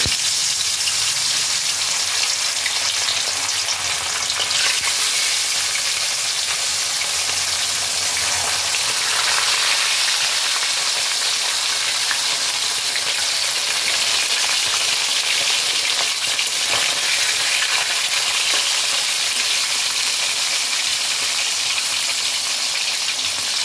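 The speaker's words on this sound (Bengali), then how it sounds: "এই তেলের মধ্যে এবার আমি মাছগুলোকে ছেড়ে দেব। দিয়ে মাছগুলোকে ভালোভাবে ভেজে নিতে হবে।" Tilapia fish pieces frying in hot mustard oil, a dense continuous sizzle like heavy rain, close and even in level for the whole stretch, with no voices.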